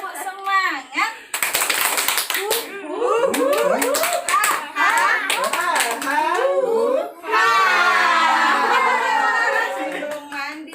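A group of children in a family parenting session does a rhythmic spirit clap, sharp hand claps in patterned bursts mixed with excited kids' voices and chatter, ending in a longer stretch of cheering.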